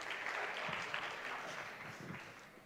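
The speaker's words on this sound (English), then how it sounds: "please give a big warm applause to our first speaker of the morning, Millán Berzosa, Strategic Advisor" An audience at a conference main stage claps for the morning's first speaker, a dense, steady wash of applause heard from a distance that gradually fades toward the end.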